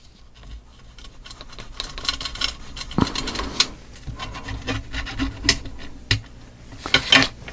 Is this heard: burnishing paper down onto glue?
yes